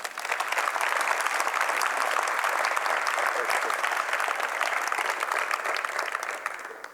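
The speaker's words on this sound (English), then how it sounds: "Please give Azizi Jasper a round of applause." An audience at a noon MLK Jr. celebration claps steadily in dense, even applause that holds at a moderate level throughout, then starts to thin and fade near the end.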